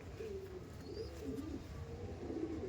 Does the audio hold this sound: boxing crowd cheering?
no